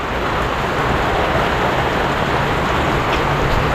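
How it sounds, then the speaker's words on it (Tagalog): Heavy rain pours down in a dense, steady roar close by, a broad continuous hiss with no letup and no talking. "Ay, grabe naman talaga ang ulan na ito."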